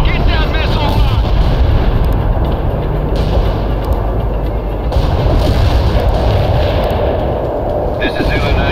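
Artillery shells bursting in the World in Conflict battle game, a dense continuous roar of heavy rumbling blasts that stays loud throughout with no clear gaps.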